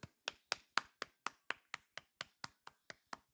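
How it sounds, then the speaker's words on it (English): Fourteen sharp hand claps in a slow, steady rhythm, each a crisp separate slap with a quick decay and silence between. Close and fairly quiet, with no voices. "let's go ahead and give me a round of applause"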